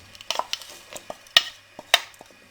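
Mashed jaggery goes into hot ghee in a pan and gets stirred: a few sharp spoon scrapes and clinks against the pan, close and distinct, with faint sizzling between them.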